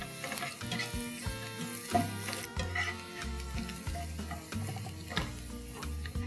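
Onions, ginger and garlic sautéing in a pan, a soft sizzle with stirring scrapes under louder background music, fairly quiet overall.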